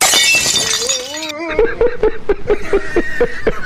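A vase hurled into a hole shatters in a short, bright crash of breaking glass or ceramic, followed by a pattern of rhythmic clinks and musical blips from a comic animal clip, with a voice chuckling over it.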